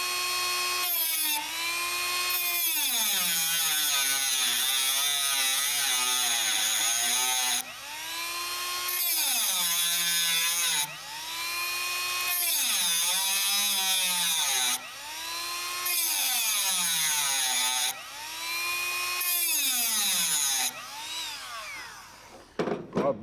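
High-speed rotary tool cutting a slot into a bolt head inside a 1971 Nova interior, whining in repeated bursts that sag in pitch under load and rise again, with short pauses between cuts.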